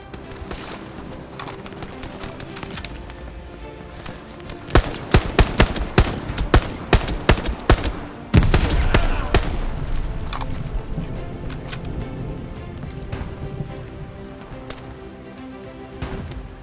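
Bursts of gunfire from the World War II shooter game Hell Let Loose, a dense run of sharp, rapid shots over steady background battle noise, loud and close in the middle of the stretch.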